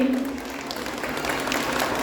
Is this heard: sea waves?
no